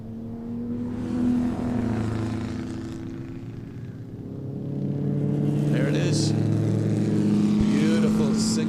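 Historic racing cars, among them a small supercharged Austin 7 and Nash specials, drone past at a circuit race, their engines holding sustained tonal notes that rise and fall in pitch as they pass, with fainter sharper sounds near the end.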